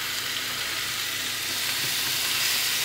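Bacon frying in a pan, a steady close crackling sizzle with dense hiss that holds evenly throughout with no talking.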